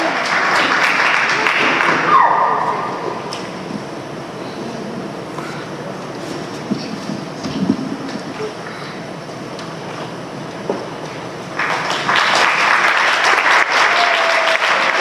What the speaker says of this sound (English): A round of applause for these Chasanei Hasidurim